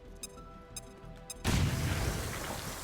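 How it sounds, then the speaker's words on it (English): A single heavy grenade blast from the game XCOM Chimera Squad erupts suddenly after a short stretch of quiet clicks and tones, then rumbles on as a loud sustained roar. "Throwing grenade."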